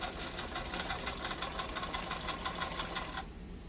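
Home sewing machine stitching at a steady fast pace, a rapid rhythmic mechanical clatter up close that runs for a few seconds before stopping, with no talking.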